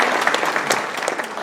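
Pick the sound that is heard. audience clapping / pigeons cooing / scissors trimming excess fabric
audience clapping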